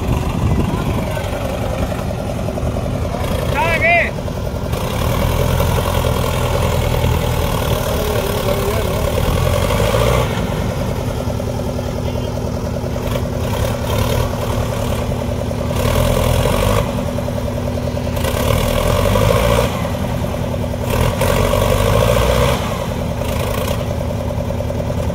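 Two tractors, a Swaraj 744 XT and a Sonalika 750, run side by side with a steady low diesel chug and idle, loud and continuous, while someone talks intermittently over the engines.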